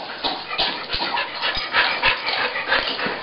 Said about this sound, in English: Fluffy puppies.